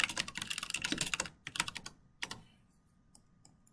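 Code being typed on a computer keyboard: rapid bursts of close key clicks, a pause, then a few more short flurries and isolated taps that trail off into near silence.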